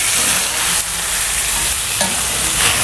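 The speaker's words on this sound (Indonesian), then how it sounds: "tumis lagi dulu sebentar biar sambalnya ini matang" Sambal stir-fries in a pan, a loud, close, continuous sizzle with occasional scraping stirs and no talk over it.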